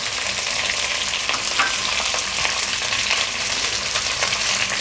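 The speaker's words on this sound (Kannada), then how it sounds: "ಜಿಂಜರ್ ಗಾರ್ಲಿಕ್ ಪೇಸ್ಟ್ ಇದನ್ನು ಹಾಕಿ ಇದನ್ನು ಈಗ ಸ್ವಲ್ಪ ಫ್ರೈ ಮಾಡೋಣ" Chillies, spring onions, garlic pods and ginger garlic paste fry in a pan for Gobi Manchurian, giving a steady, close, continuous sizzle with no pauses and no talking.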